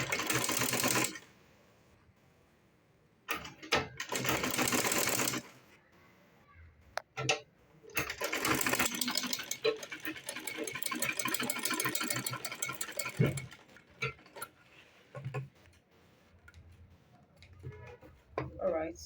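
A sewing machine top-stitching a homemade fabric file folder, running in several loud close bursts of rapid mechanical whirring separated by pauses, with clicks between them and a voice talking in parts.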